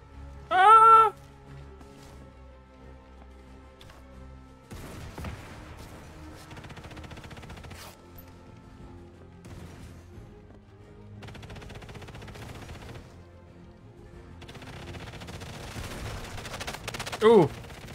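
Gunfire in the video game Sniper Elite 5, heard as scattered bursts of shots and rattling fire spread across the stretch, with a loud burst near the start and another near the end and no talk over it.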